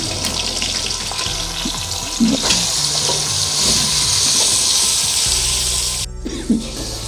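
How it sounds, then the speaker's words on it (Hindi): Spiced masala frying in a pot for chicken haleem, a steady broadband hiss and sizzle that holds throughout at close range, with a few soft clinks of a utensil against the pot. "ये मैं अब थोड़ा सा इसको भून लेती हूँ।"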